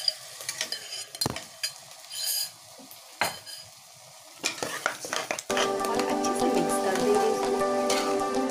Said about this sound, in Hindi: मसाला कुक हो जाने के बाद हम इसमें अपना चने आलू को ऐड कर देंगे